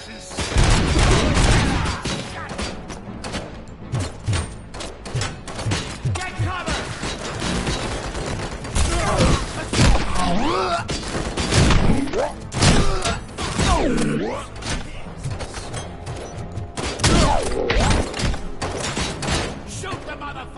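Dense, sustained gunfire from RoboCop: Rogue City, with loud overlapping bursts, crashes and impacts filling the scene continuously while shouting voices break in.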